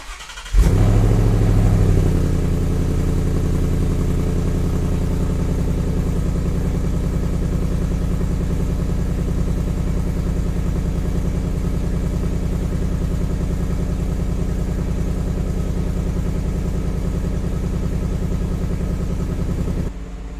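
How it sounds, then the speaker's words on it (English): Stock exhaust of a 2017 Ford Mustang GT bursting into life on a cold start, then settling into a loud, steady, deep idle rumble that holds unbroken for about twenty seconds. "let's get that cold start and show you how the stock exhaust sounds on this car"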